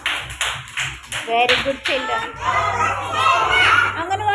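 A group of young Anganwadi children clap together in a classroom, a rapid run of bright claps that swells into sustained applause while an adult voice speaks over it.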